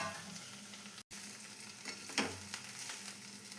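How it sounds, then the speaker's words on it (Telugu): Coriander leaves fry in a little oil in a pan, giving a soft, faint sizzle with a few light stirring scrapes and a brief gap partway through. "కొత్తిమీర అయితే వేసేసి ఫ్రై చేసుకోవాలి."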